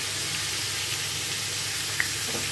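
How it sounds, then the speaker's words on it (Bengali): Dried red chilli, bay leaf and panch phoron crackle in hot oil in a kadai, a steady low frying hiss with one small pop, close and even, no talking. "এবার ওই কড়াইয়ের মধ্যে আর একটু বেশি করে তেল দিয়ে এর মধ্যে দেবো একটা শুকনো লঙ্কা, তেজপাতা ও পাঁচফোড়ন"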